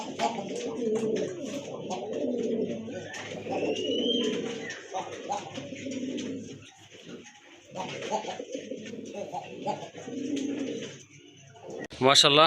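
A pair of desi Raj Golla pigeons coo in low, rolling repeated phrases throughout, close by, while someone talks over much of it and a sharp noise comes at the very end.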